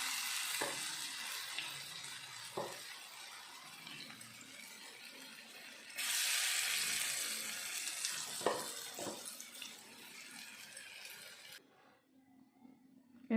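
Banana flower pakoda batter frying in hot oil in a village kitchen, a bright crackling sizzle with occasional knocks, swelling louder midway before cutting off to near silence at the end.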